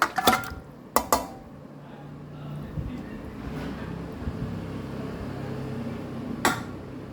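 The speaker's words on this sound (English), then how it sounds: "So now let's add this meat here." Beef bone meat going into a pot for a Goan beef curry: sharp metallic clanks of a utensil against cookware at the start and again later, with a low rustling and scraping in between, close up.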